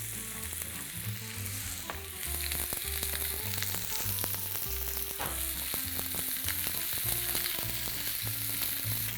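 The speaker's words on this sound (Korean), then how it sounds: "양파 볶을게요." Onions sautéing in a little leftover oil in a pan while preparing a Spanish omelette: a steady, fairly loud sizzle with occasional stirring clicks, running beneath tonal background music.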